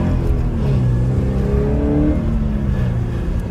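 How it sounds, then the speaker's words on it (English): A Subaru BRZ sets off and accelerates, its engine note heard from inside the car as a steady loud drone whose pitch rises and sweeps upward through the revs. "So we're going to set off now for a little drive."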